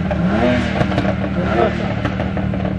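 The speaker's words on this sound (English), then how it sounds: "Rev it up!" A car at a street car meet revs its engine in loud, rising and falling bursts, close by, while people talk and shout over it.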